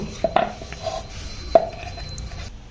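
Luchi dough is rolled out with a rolling pin on a board, making a few light wooden knocks and soft clatters over a quiet, scraping background.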